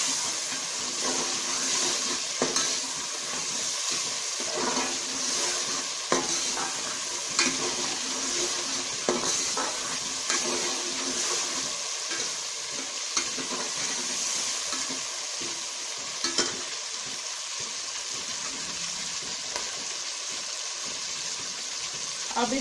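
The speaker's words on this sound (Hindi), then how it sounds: "अब थोड़ी देर इसको भूनेंगे।" Spring onions and green chilies fry in a pan with a constant close sizzle, punctuated by periodic stirring knocks and scrapes of a utensil against the metal.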